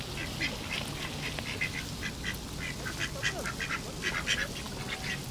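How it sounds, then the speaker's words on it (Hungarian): Ducks quack repeatedly in bursts on a Texas ranch outdoors, the calls moderately distant over a steady wash of ambient noise. "ez az egyik kacsa"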